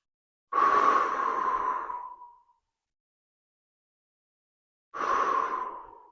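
Two long, deep breaths drawn into the belly during a hip mobility stretch, the first about two seconds, the second shorter after a quiet gap, close and breathy with no talking.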